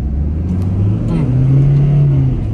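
A remapped Toyota Innova with a 2GD turbo diesel engine revs on its first pull, the engine note rising and holding a loud, rough drone close by, with people talking over it.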